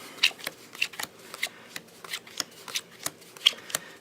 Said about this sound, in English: in each row we're going to deal 4 cards